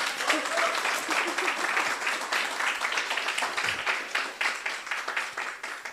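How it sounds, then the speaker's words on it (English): An audience at a business forum chapter meeting applauds Malini ji, with steady, full clapping across the room that lasts the whole six seconds and carries a faint murmur of voices. "Can we hear a round of applause for her?"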